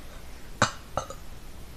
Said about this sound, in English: these burps are literally real